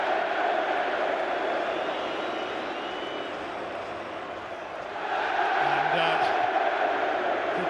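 Newcastle United fans cheering inside the stadium at the League Cup final against Liverpool: a broad, distant crowd roar that dips in the middle, then swells again, with a commentator speaking faintly over it.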